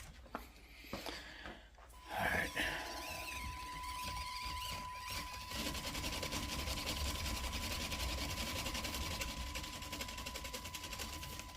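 A small electric motor in a bone-stock SCX24 Toyota 4Runner RC crawler spins its wheels with a steady, close, high whine that runs unbroken after a few brief handling knocks.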